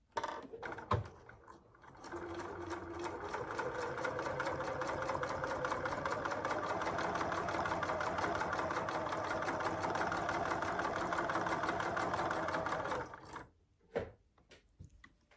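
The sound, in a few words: sewing machine stitching quilt fabric pieces together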